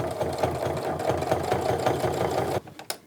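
A sewing machine top stitching fabric on a tote bag hums in a fast, steady mechanical rhythm close by, then stops abruptly, followed by a couple of small clicks.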